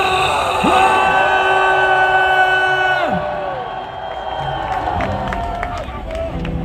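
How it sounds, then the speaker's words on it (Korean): A large crowd at a political rally in Gwanghwamun roars and shouts loudly and continuously, with sustained horn-like tones and whoops rising over the mass of voices. "함성 발사"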